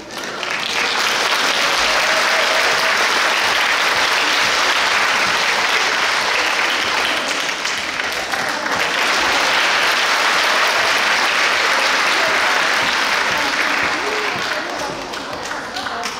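Audience applause and cheering at a school children's choir festival, loud sustained clapping from a large crowd lasting throughout with a few whoops mixed in.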